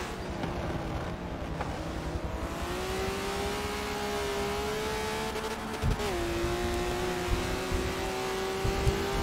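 Race cars in the MTS PRO GT racing video game drone steadily at high revs, a sustained engine whine with a pitch dip as a car shifts or brakes, with other cars blending into the mix.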